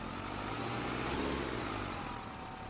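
Tractor engine in the Farming Simulator 25 farming game, working a wheat contract, runs steadily with a low droning rumble and constant mechanical hum, fairly loud and unbroken, with no talk over it.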